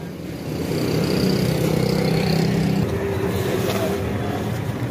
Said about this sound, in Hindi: ये भाई फैसलाबाद वाली गाड़ी आ गई है।